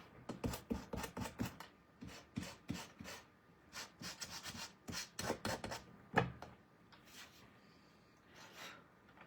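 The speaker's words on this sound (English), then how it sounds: "I'm going to sand this down." Sanding a wooden basket insert by hand, a string of close, rhythmic rasping strokes that come in bursts and then thin out toward the end, with no talking.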